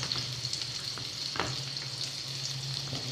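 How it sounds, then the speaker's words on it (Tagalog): Garlic, onion and chili sizzle steadily in a frying pan, a continuous close crackle with light stirring scrapes and no talking. "pag nag-brown na siya, so, ilagay na natin yung sibuyas and sili"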